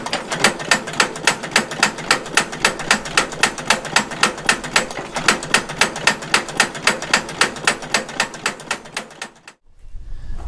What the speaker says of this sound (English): And now we crank. Just circulate everything around.